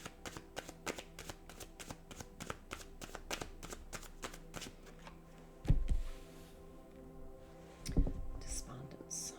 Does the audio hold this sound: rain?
no